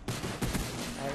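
Short burst of gunfire from a Czechoslovakian gun in the Black Ops shooter game, several rapid shots close together over a steady loud game background.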